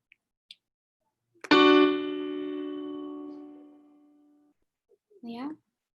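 A chord struck together on a keyboard, voicing the harmony of a choir chord, sounds once and rings out, fading over about three seconds. A brief voice is heard near the end.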